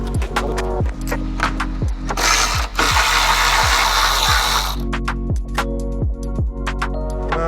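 A hand ratchet clicks in quick repeated strokes while removing the hood of a 2012 Porsche 911 Carrera, close and steady, with a burst of broadband rushing noise in the middle.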